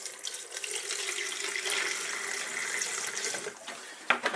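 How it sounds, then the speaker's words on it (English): Tap water runs in a steady stream into an electric kettle that already holds vinegar for cleaning, a continuous splashing pour that ends with a few sharp knocks near the close. "I'm going to add a little bit of water."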